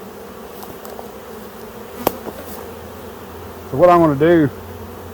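Honeybees hum in a low steady drone around nuc hive frames, with a faint click partway through and someone speaking briefly near the end.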